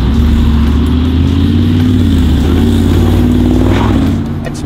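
Supercharged 5.5-litre V8 of a 2012 Mercedes-Benz G55 AMG Kompressor revving, a loud, steady deep engine drone held close up for the whole stretch before easing slightly at the end, with no talk.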